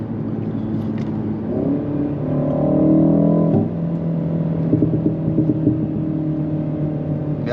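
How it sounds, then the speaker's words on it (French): BMW M135i with a 306 hp engine, its exhaust note piped through the cabin speakers: a steady low engine drone with a brief swelling rev in the middle, then settling back to a smooth hum. "Donc on entend le retour à l'échappement."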